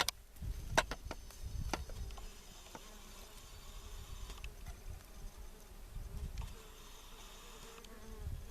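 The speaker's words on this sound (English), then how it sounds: "there's a lot of buzzing coming from here" Bee buzzing outdoors during insect collecting, a faint continuous hum with sharp ticks and clicks scattered through it and no voices.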